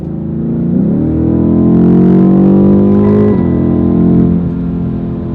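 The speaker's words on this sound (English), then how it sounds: "And the sound of the car, it's good." A BMW M850i revs its engine in a loud, steady, close drone that climbs in pitch, holds, then settles back down, with no voices.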